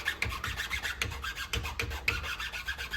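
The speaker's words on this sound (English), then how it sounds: "my tip of my bow is flexing, so it's grabbing the file" A 3/16-inch file rasps across the wood of a self bow during tillering prep, in quick, rhythmic back-and-forth strokes that sound close, scratchy and steady, with no talk.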